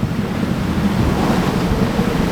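Strong steady wind roars over choppy open-sea waves while a sailboat beats through 20-21 knot winds, loud and continuous with wind buffeting the microphone and no speech.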